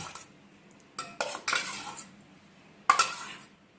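Spoon scraping and clinking against a vessel while mutton is mixed with spices and coriander powder for a thick mutton curry, a few short bursts of stirring with quiet gaps between, close by and moderately loud, no talking.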